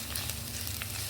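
Whole spices such as cloves, peppercorns, caraway, bay leaf and black and green cardamom sizzle in a spoonful of hot oil for chicken korma, giving a steady, close crackle with no talk.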